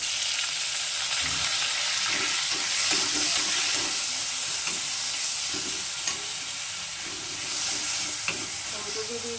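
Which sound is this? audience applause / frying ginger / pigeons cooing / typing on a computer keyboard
frying ginger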